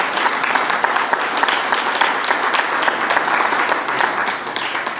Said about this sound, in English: would like to give them a round of applause